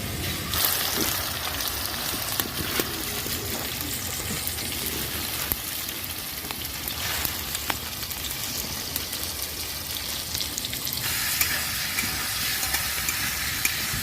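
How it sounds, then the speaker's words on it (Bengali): Potatoes fry in a pan with a constant sizzle and hiss, heard close up and alone, with occasional spatula clinks and stirring scrapes. "আলুটা ভালো করে ভাজা হবে, একটু লাল লাল করে নেবো আলুটা।"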